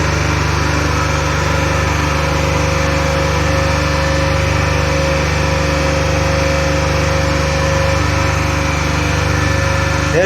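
Electric machine with a 3-point starter humming steadily near 1500 RPM in a synchronous impedance voltage regulation lab test, a loud continuous drone with a constant tone, no talk.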